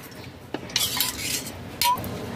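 A spoon stirs a cornflour, salt, sugar and water batter in a bowl, making a few bright metallic clinks and brisk scraping swishes close by, with no voices.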